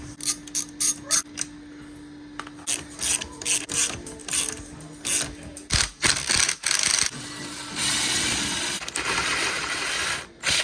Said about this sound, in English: Now we're gonna get these bolts out real quick. We'll start with the 12 millimeters and we'll get these 14s.